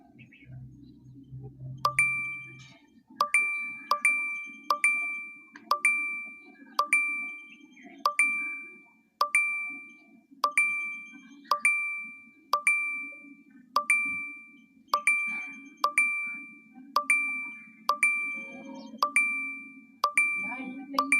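Repeated phone message notification dings, a steady run of about two dozen bright chimes spaced roughly a second apart, close and clear over a low background hum, with a voice briefly at the start.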